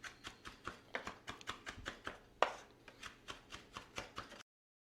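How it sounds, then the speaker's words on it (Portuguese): Rapid knife chopping through fresh herbs and garlic on a board while making a barbecue sauce, a steady run of about a dozen crisp, close thuds with one sharper, louder strike midway; no voices. "Agora aqui nós vamos dar uma batidinha em todas as ervas juntos."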